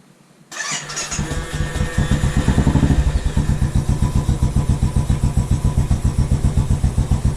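A Royal Enfield motorcycle is started close by. The starter churns briefly, then the engine catches into a loud, even thumping idle with a steady rhythmic pulse, and no talking.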